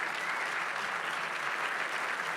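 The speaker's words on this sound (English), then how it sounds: "A wonderful Westport round of applause" Applause from an author-talk audience in Westport, a dense steady patter of many hands clapping at even loudness throughout, with no voices over it.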